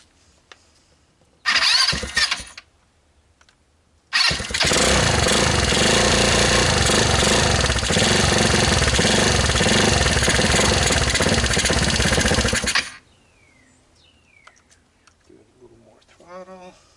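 A 150cc GY6 engine on a wide-stance ATV coughs briefly, then starts and holds a loud, steady raspy run for about nine seconds before cutting off, leaving quiet with faint noises.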